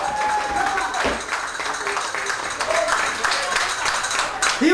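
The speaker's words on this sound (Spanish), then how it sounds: "Ese aplauso para el príncipe del baile flamenco" Steady, loud audience applause for flamenco dancer José Junco, filling the space with dense clapping while voices carry over it.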